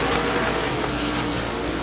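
Modified race cars roar around Devils Bowl Speedway in a USA Limited Modifieds feature, a dense, steady wall of close engine noise with several cars blending together for the whole stretch.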